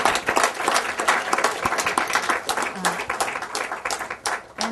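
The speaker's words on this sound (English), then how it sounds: "give a round of applause to our panelists" An audience at a global health roundtable applauds its panelists, a loud, sustained burst of many hands clapping with a few voices mixed in.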